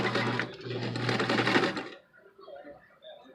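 Sewing machine stitching a quarter-inch seam on a fabric face mask, a close, steady whirring run for about two seconds that then cuts off, leaving faint clicks and quiet handling.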